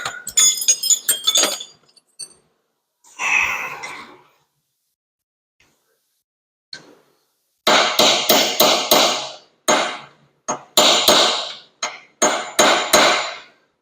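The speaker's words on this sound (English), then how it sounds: "because that brass hammer mushroomed that end over it." Sharp metallic strikes of a brass hammer on a punch while rebuilding the crank and cam gears of a 1920 Nash engine, a few at first, then rapid bursts of repeated taps with short pauses between.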